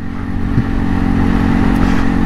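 A 2022 Segway AT6 SX 570 ATV engine runs loud and close with a conservative tune, giving a steady, throbbing mid-pitched drone with a slight mechanical clatter and no voices.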